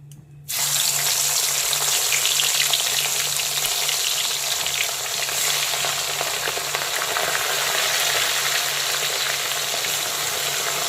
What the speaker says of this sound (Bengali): এখন লবণ আর হলুদ মাখানো ভোলা মাছগুলোকে একে একে আমি তেলের মধ্যে দিয়ে দেব